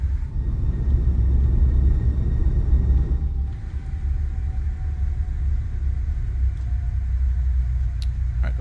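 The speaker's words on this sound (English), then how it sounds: "Reversers are coming out. In the decel." Thrust reversers deploying on an Aerosoft CRJ airliner during landing rollout in Microsoft Flight Simulator: a loud, continuous roaring rumble that slowly eases as the aircraft decelerates, with no voices.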